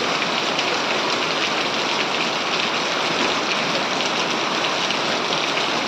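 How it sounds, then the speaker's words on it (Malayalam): Heavy rain pours down steadily in Kottayam, a dense, loud and even hiss of drops that continues unbroken with no voices. "ഞങ്ങൾക്കിവിടെ നല്ലൊരു മഴ"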